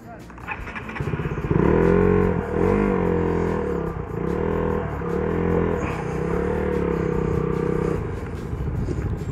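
A motorcycle ride on the way to Marmara Island, with a steady loud engine drone and wind rush rising and settling, while someone talks over it.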